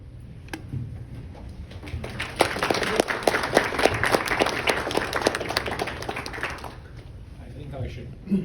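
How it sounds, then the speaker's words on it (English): An audience breaks into applause after someone is introduced, the clapping swelling for several seconds and then tapering off, with someone speaking at the start and end. "I should ask you to hold the applause"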